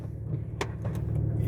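Windshield wipers on a Porsche 911 X50 Turbo sweep a dry windshield, giving two quick, faint swishes over the low hum of the idling car.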